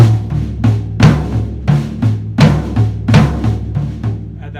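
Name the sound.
drums, flams on the accents, Bo Diddley beat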